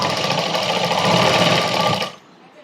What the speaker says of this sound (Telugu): ఈ విధంగా ఫ్రంట్ బ్యాక్ కుట్టుకున్న తర్వాత మనం భుజాలు అనేది కుట్టుకోవాలి